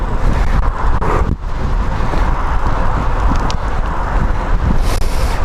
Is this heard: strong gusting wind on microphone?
yes